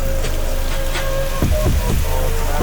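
Steady rain pours down in Sialkot, a loud, constant hiss of drops striking surfaces nearby, unbroken throughout with no voices.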